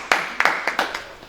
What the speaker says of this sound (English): And I want you to welcome her with a big round of applause.